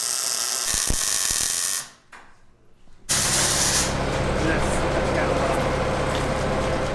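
Welding mounts onto an off-road wrecker build gives a loud, steady crackling hiss that cuts out for about a second mid-way, then resumes just as strongly.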